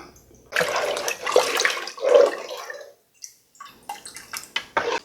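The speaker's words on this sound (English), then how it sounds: "Now I got some warm water here. Add that in." Warm water poured into a pot to make a curing brine for bacon and ham, a steady splashing pour for about two and a half seconds, then a few scattered drips and small splashes close by.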